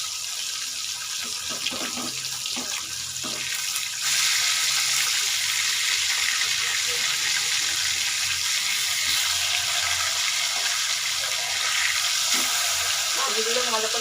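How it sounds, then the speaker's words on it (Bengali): Fish pieces frying in hot oil with turmeric, a steady bright sizzle throughout with occasional stirring and turning noises, growing slightly louder partway through; no talk. "মাছগুলো উল্টে পাল্টে ভেজে নেব।"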